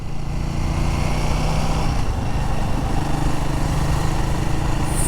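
A Royal Enfield Guerrilla 450 motorcycle accelerates through its gears with a loud, steady engine drone, heard up close, and a short dip in the note partway through.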